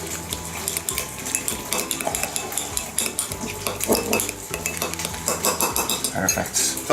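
Mayonnaise and sriracha sauce are stirred together in a bowl with a utensil, giving close, repeated clinking and scraping strokes in an irregular rhythm.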